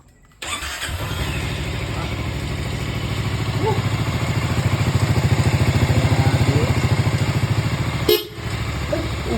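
A Honda ADV 350 scooter engine starts with a quick burst, then idles steadily and close with an even, throbbing putter, dipping briefly near the end before settling again.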